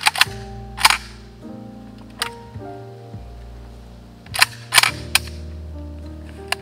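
Reservist rifle fire, Valmet or Norinco, on a shooting range: several sharp, loud shots in irregular succession, a couple close together, each followed by ringing echo and lingering tonal reverberation.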